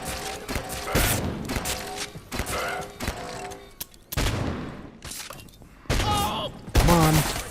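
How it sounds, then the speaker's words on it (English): Shotgun blasts in the survival game Abiotic Factor, a series of loud, irregular booming shots with thuds and crashes between them, interleaved with someone talking. "Oh my god, the shotgun."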